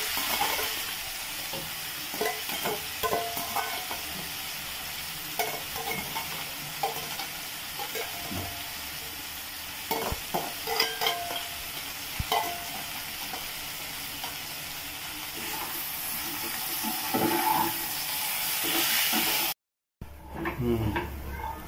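Yam pieces fry with crushed garlic and curry leaves, sizzling steadily in a pan while a spatula scrapes and clatters repeatedly. Close, busy kitchen sound with some talking under it and a momentary dropout near the end.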